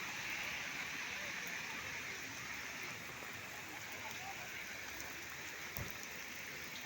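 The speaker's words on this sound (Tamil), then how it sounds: "நல்ல மழை." Heavy rain falls steadily in a continuous, even hiss with a faint distant thump, heard alone with no talking, outdoors near hill temples.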